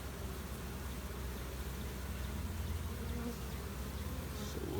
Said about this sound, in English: Looks like more bees are starting to march in